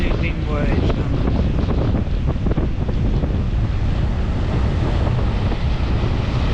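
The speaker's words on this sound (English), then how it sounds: "Two big waves coming." Big ocean waves surge around a rock pool on the Eyre Peninsula, a loud, continuous roar of surf mixed with heavy wind buffeting the microphone throughout.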